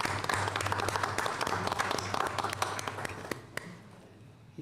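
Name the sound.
audience applause at city council meeting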